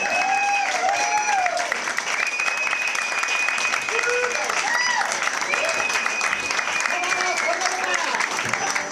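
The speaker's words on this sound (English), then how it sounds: "A standing ovation for Chris Jones and the Night Robbers" A live radio show audience at Kimbro's Café in Franklin gives Chris Jones and the Night Robbers a standing ovation. Sustained, loud clapping fills the room alongside whoops and cheers, with crowd voices mixed into the steady applause.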